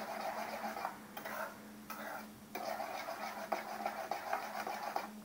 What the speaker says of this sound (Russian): Интенсивно помешиваем. Не даем пригореть.